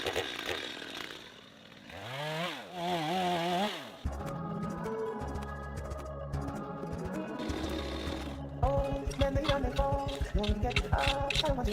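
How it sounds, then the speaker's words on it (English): A chainsaw cuts wood at an off-grid yurt, a loud, steady engine drone that shifts pitch, then breaks into rapid rhythmic buzzing near the end, after a voice is heard at the start. "The chainsaw fits me in here or here."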